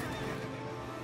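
A horse neighs in the Heroes of Might and Magic V strategy game, a steady mid-loud whinny over dense game sound and music, lasting about a second.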